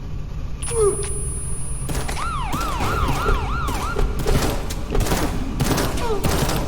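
Gunfight in the video game Glitchpunk: dense, rapid gunfire bursts crackle throughout, overlaid by a wailing police siren sweeping up and down, with game ambience underneath and no talk.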